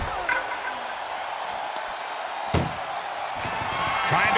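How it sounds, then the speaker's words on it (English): Ambulance door slammed shut during a WWE 2K24 match, a single hard thud midway through amid steady arena crowd noise, followed by fainter knocks. "Trying to at least slam one door shut."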